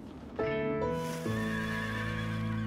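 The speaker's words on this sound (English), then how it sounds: "Like horses," A horse neighs loudly and close, a long wavering whinny that rises and then trails off, heard alone.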